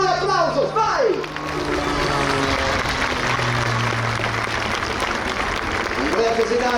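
Crowd applause and cheering at the Jesolo Air Show 2022 during Andrea Pesenato's CAP 231 aerobatic display, a steady dense wash of clapping that fills the whole stretch, with a faint tonal hum and an announcer's voice briefly at the start.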